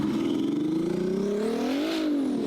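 A twin-turbo Ferrari F12 engine revs steadily upward in neutral on the street with a rising throaty pitch, close and loud, then peaks and eases slightly.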